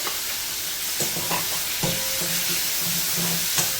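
Crushed onion and tomato fry with a constant, loud sizzle in a pan while a spoon scrapes and stirs in several separate strokes; no one speaks.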